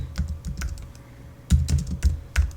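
Fingers type a short note on a computer keyboard in quick, close clusters of light clicking keystrokes, with brief pauses between bursts.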